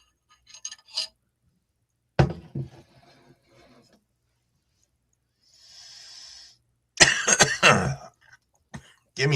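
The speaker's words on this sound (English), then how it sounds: "Give me a second here as I cough" A man coughs and clears his throat in a few harsh bursts at a Sunday gathering, with short pauses between them. A softer hiss sounds midway, and a loud, rough cough fit comes near the end.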